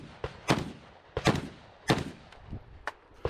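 Sharp rifle shots ring out during a rifle match stage, about six reports spaced irregularly over a few seconds, each a loud broadband crack with a short decay and no talking.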